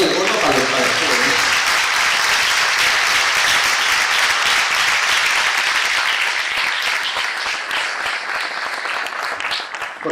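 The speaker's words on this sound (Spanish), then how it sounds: "Un mínimo aplauso, pero luego guardáis el gordo para el juego." A concert audience applauds musicians, including percussionist David Ruiz, after a performance of Al-Andalus-inspired music, with sustained, loud, even clapping filling the hall from start to finish and a brief musical tail fading under it at the opening.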